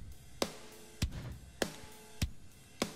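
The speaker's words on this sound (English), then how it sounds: "And what I wanted to do is squash the hell out of this drum track, make it sound like this." Drum track heavily squashed through a McDSP 6030 compressor, with five hard, evenly spaced hits about every 0.6 seconds and pumping, breathy decay swelling between them, played alone.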